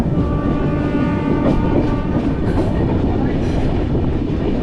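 AP Express passenger train running on the Central Railway near Ballarshah, a loud continuous rumble and rattle of wheels on rails with steady clatter and faint tonal hum, heard close from on board.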